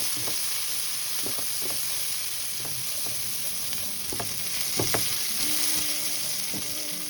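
Strips of capsicum and boiled potato with salt fry in a pan, a soft steady sizzle broken by irregular scraping and tapping strokes of the spatula, close and unhurried.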